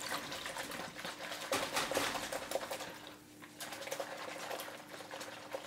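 Small splash of water poured into homemade liquid soap for a foam test, a faint, short trickling and splashing pour with some clatter, then quieter bubbling as it settles.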